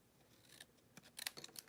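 Scissors cut through glossy paper cardstock close up, making faint, quick snipping clicks in a short cluster near the end of an otherwise quiet moment.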